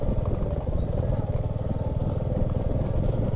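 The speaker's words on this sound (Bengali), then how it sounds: "4টে বাইক পরপর লাইন আপ করে যাচ্ছি" Four motorbikes ride one behind another along a rough hill road in light drizzle, a steady close engine drone with a pulsing low rumble throughout.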